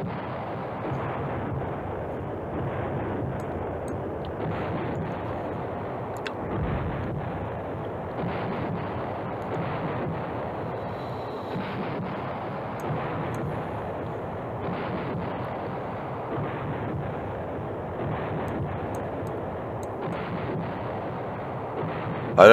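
Artillery bombardment in the Command Ops 2 war game rumbles on throughout, a steady dense barrage of distant booms and muffled blasts with no talk.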